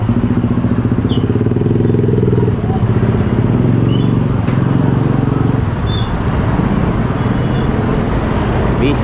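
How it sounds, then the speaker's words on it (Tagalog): Busy road traffic with motorcycles and cars passing close by, a loud continuous engine drone with a rough, pulsing motorcycle rumble throughout and a few faint higher sounds above it. "Busy ang kalsada."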